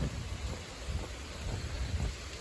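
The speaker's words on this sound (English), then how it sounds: "Right now it's raining, so there's not many people." Steady rain falls over a concrete path at Devil's Millhopper State Park sinkhole, a soft continuous wash with low rumbling wind noise and no voices.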